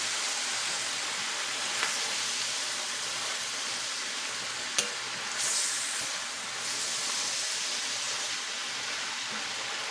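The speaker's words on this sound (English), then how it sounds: "you take all your vegetables, your onion, your peppers and stuff, and you put them over in here and you fry them with it" Onion and peppers fry in a pan with oil and seasonings, giving a continuous loud sizzle and hiss, with a few sharp clicks and a brief stirring rustle partway through.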